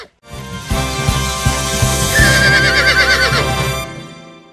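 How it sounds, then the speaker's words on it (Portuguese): A horse lets out a loud, clear whinny, a long wavering neigh that rises and trembles before fading, alone and close. "Cavalo."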